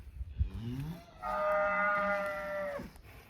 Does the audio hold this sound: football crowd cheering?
no